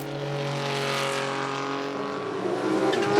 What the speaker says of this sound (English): we get to hear some of Porsche's greatest cars flex their engineering muscles